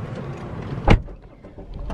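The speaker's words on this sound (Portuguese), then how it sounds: "Deixa eu fechar a porta, né?" A car door shuts once with a single solid thud near the middle, heard from close by against a quiet interior background.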